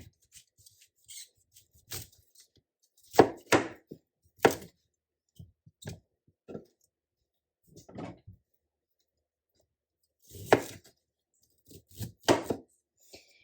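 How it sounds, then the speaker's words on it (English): A knife roughly chops broken broccoli florets on a board in a home kitchen, giving sparse, irregular thuds and clicks with long pauses between them and no voice over them. "And then I'm going to break my florets up and just roughly chop them"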